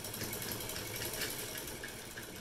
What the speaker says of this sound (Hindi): अभी मैं करने लगी हूँ शर्ट सिलाई